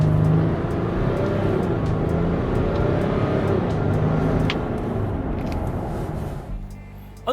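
A 2020 Ram 1500 Limited pickup with a 3-liter turbocharged EcoDiesel V6 accelerates at full throttle, a steady, loud engine roar that holds for several seconds and eases slightly near the end, with no talking.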